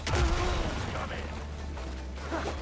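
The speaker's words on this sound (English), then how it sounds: "Can I dodge the explosion on that?" A single heavy explosion in the survival basebuilding game Windrose: a deep, loud boom erupts in the first half-second, then fades into a dull rumble under ongoing game ambience, with a second softer thump near the end.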